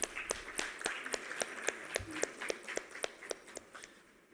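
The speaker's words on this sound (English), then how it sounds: "Please give them a huge round of applause." Scattered audience applause at a rare diseases summit, with sparse, steady hand claps keeping a loose rhythm, faint and alone.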